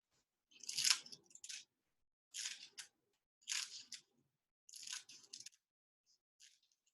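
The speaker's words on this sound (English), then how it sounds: "The last thing that I didn't add was our seaweed. So I'm just gonna cut a couple strips here." Scissors cut seaweed into strips in four or five crisp, short snips spaced about a second apart, close and quiet against silence.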